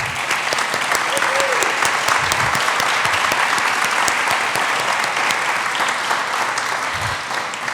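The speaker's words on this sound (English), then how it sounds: "I'd like them all to stand up if we could give them a round of applause." Audience at a first-responder appreciation event gives a sustained round of applause, dense and steady clapping from a large crowd filling the whole stretch, with a few brief murmurs underneath.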